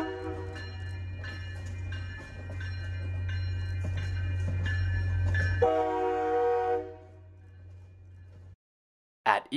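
An MBTA passenger train sits in a layover yard, a steady low engine rumble and rhythmic bell-like clanks running for several seconds before a horn blast, then the sound cuts off, with a brief burst at the end.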